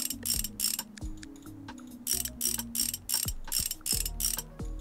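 Ratchet wrench clicks in quick repeated bursts with mechanical whirring, removing a motorcycle's front fender in Motorcycle Mechanic Simulator 2021, loud and close with short pauses between bursts and no talking.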